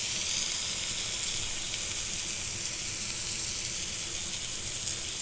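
Eggplant fries in a pan, producing a steady, bright sizzle that hisses continuously without pause and stays close and even throughout.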